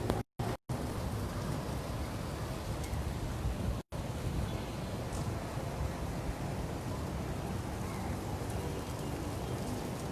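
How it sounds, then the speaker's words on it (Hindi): Heavy rain pours down in a dense, constant roar with no pauses apart from a couple of brief dropouts near the start. "ॾाढी ॾाढी ज़बरदस्त बारिश पई थिए, मतिलबु ॾाढी तेज़ आहे।"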